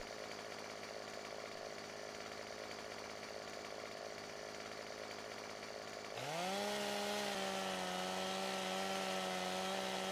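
A chainsaw in the video game Farming Simulator 17 runs at a steady idle, then revs up sharply and bites into a tree, holding a loud, strained whine through the cut, with no talking.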